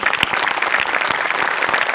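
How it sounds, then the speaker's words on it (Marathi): Dense, steady applause from a studio audience at a Marathi comedy show, many hands clapping together for about two seconds with no voices on top. "सई, कॉस्ट्युम डिपार्टमेंटसाठी एकदा जोरात टाळ्या होऊन जाऊ देत."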